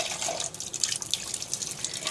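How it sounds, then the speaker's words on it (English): Water splashing and running in a sink as a painting water cup is emptied and rinsed, a steady close, moderately loud wash of liquid. "I'm going to dump out the water cup first and give it a good rinse."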